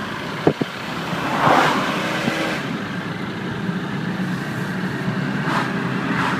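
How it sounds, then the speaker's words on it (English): Noisy engine of a 2000 Saab 9-5 four-door turbo idling, a steady rough rumble with a couple of small knocks near the start. "I'm going to try to let you listen to the motor."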